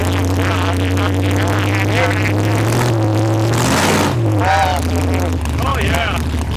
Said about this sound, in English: we're going to be taking ourselves a ride in a 1950 T-Bucket.